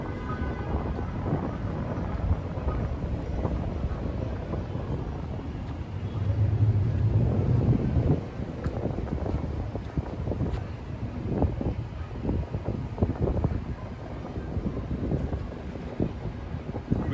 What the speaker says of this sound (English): A bit windy, beautiful nonetheless.